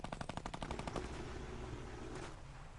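Rapid automatic gunfire in the Fortnite battle royale game, a fast burst of close, loud shots in the first second that gives way to a dense, sustained rattle of weapon noise with no talking.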